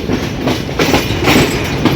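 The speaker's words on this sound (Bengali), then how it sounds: "জয়দেবপুর জংশনে প্রবেশ করছে রাজশাহী থেকে ছেড়ে আসা ঢাকা অভিমুখী পদ্মা এক্সপ্রেস" The Padma Express, an intercity train from Rajshahi bound for Dhaka, rolls into Joydebpur Junction with a loud, steady rumble of wheels and carriages and a rhythmic clatter close by.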